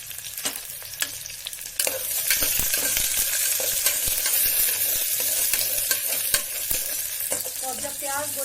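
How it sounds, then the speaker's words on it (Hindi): Onions fry and sizzle steadily in a pan for a mutton and spinach dish, with a dense continuous hiss broken by repeated clinks and scrapes of a stirring spoon against the pan. "अब हम इसमें प्याज डाल देंगे और प्याज को गोल्डन ब्राउन करेंगे।"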